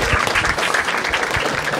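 A brief, dense burst of clapping rises from the crowd at a Marathi stand-up comedy show, loud and continuous throughout.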